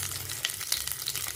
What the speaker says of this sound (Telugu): ఇప్పుడు నేను వేరే కడాయి తీసుకొని ఆయిల్లో ఫ్రై చేసుకుంటున్నానండి